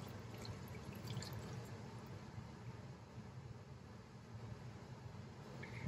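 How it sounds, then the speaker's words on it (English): Water gushes steadily from the popped pressure relief valve on a water heater, a continuous broadband hiss and splash held at an even level for several seconds, with no voices. "We're going to pop this relief valve one more time. I'm going to show you. There's water coming out."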